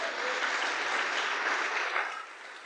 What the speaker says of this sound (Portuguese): Será que podemos aplaudir para a glória de Deus?